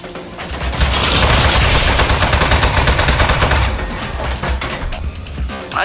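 Rapid, loud automatic turret fire in the Portal spin-off game Aperture Desk Job, a dense continuous stream of shots during an ambush that eases slightly toward the end.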